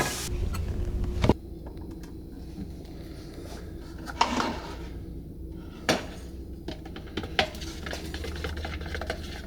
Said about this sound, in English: Now I mix the West system epoxy.